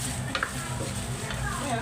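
Pork frying in a pan for Filipino sisig, a short burst of busy sizzling with stirring scrapes and a couple of sharp utensil taps, a voice faintly in the background.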